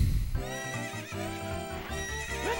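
Horse neighing in a Zelda-style speedrun video game, a loud whinny rising over game music with harmonic tones, clip-clop hooves beneath and a brief second neigh near the end.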